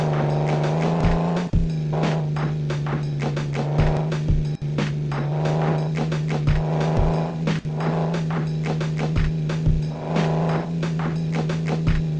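Off-road quad bike engine in a racing video game, a steady close droning motor with frequent short sharp bumps and brief gear-shift dips, playing on its own without talk.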